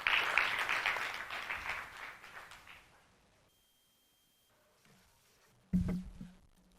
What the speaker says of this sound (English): let me now invite, with a warm round of applause